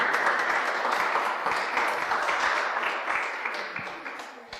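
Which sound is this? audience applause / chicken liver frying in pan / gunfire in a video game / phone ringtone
audience applause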